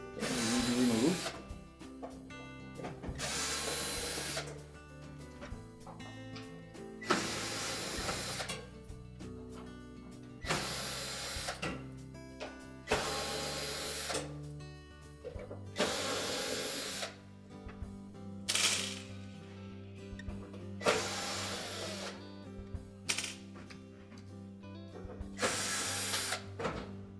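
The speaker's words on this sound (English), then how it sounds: "In this particular model there are 5 screws along either side that we need to remove." Several mounting screws come out of the upper back panel of a Whirlpool range, each with a loud, close power-driver whine in repeated bursts separated by brief quiet gaps while the tool is moved along the panel.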